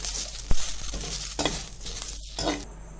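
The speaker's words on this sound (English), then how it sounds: "You fry the green chilies until it changes its color." Green chilies fry in a pan with a soft, steady sizzle, broken by a few clinks and stirring scrapes of a utensil against the pan.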